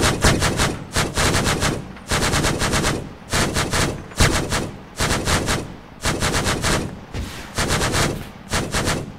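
Loud, close bursts of rapid aircraft cannon fire hit an armored target in the Arma 3 military game, about eight or nine bursts separated by short gaps.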